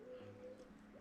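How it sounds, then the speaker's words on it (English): Faint cooing from pigeons or doves carries across a winter riverside along the flooded Severn at Ironbridge, with a soft steady rush of distant water underneath. "Birds, distant sound of the river"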